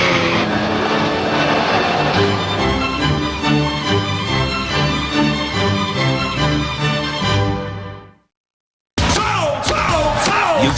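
A rally car driven by Timo, troubled by an alternator fault, roars past on a special stage, loud and continuous for about eight seconds before cutting off; after a short gap, a burst of other noise follows.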